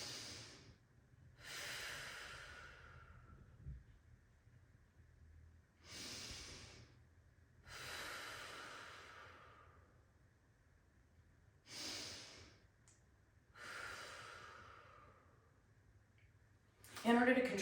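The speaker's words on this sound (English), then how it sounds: "I'm going to hold this extended position, rotating back and taking 3 deep breaths" Slow, deep breathing during a hip stretch: three long audible inhale-exhale cycles, airy and close, with quiet pauses between breaths, ending in a sharper noise.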